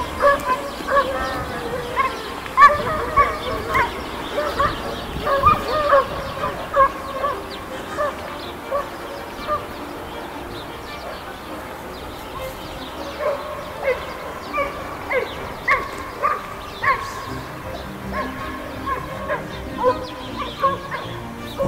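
Three hunting hounds bay during an opening-day fox hunt with hounds, their voices overlapping in a busy, repeated chorus that carries from a distance across open country.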